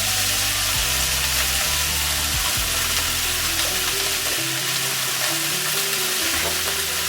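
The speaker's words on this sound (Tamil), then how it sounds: "இது கொஞ்சம் நல்லா வதக்கலாம்." A handful of mint leaves sautés in a pan, a loud, dense sizzle running steadily throughout, with a low tonal hum under it.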